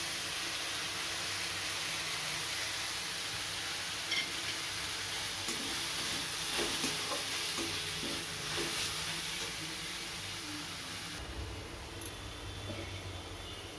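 Spices of salt, turmeric, ground coriander, ground cumin and a pinch of sugar stirred in a pan, a continuous broad hiss of sizzling oil with faint scattered scrapes and taps from the stirring.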